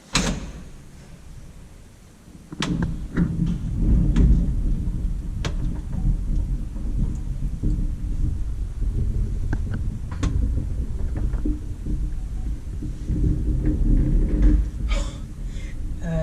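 A 1940 Kone traction elevator, modernized in 1996, runs with a steady low rumble and hum of machinery throughout, occasional clanks and thumps on top, continuous and fairly close.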